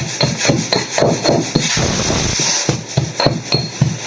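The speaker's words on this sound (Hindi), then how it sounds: "मैं यहाँ लहसुन को कूट रही हूँ" Garlic is pounded in a kitchen with rapid, steady thuds and gritty crushing strikes, close and fairly loud, several blows per second throughout.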